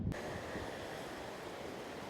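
Wind and surf at Tajpur sea beach make a steady broadband roar, with strong wind buffeting the microphone and a thud at the start.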